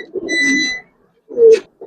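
Giribaz coloring pigeons coo close by, two short throaty coos separated by a brief pause.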